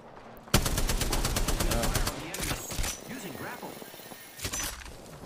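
Rapid bursts of Spitfire machine gun fire crackle in an Apex Legends match, with a long sustained volley followed by shorter strings of shots, impacts and game effects, while players talk over the action.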